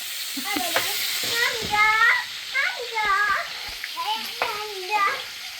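Fish frying in a pan at a home family gathering makes a steady hiss beneath frequent children's and adults' voices talking nearby.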